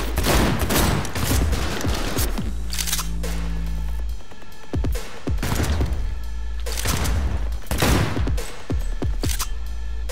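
Gunfire in the video game Cyberpunk 2077: rapid bursts of loud, close shots come in clusters with deep thumping impacts between them, and there is no talk over them.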